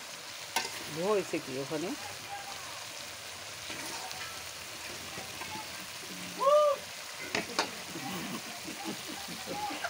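Vegetables, including potatoes and eggplant, sizzle and fry in a pan over a clay stove, a steady soft crackle close by, with a brief question spoken and a few bird-like chirps and clinks over it.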